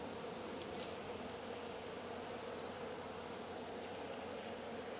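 Honeybees buzz around a beekeeper's water source with floating bark and sticks, a faint, continuous drone with no voices.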